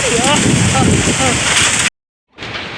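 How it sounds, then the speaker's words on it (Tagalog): Strong typhoon wind under a Signal No. 3 storm in Masbate, Philippines, roaring loud and steady with a rain-like hiss close to the microphone. A voice speaks briefly under it, then the sound cuts out for a moment before the roar returns. "grabe kusuga diri sa hangin"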